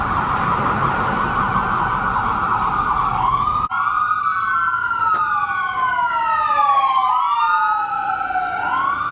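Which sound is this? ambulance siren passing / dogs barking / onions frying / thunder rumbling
ambulance siren passing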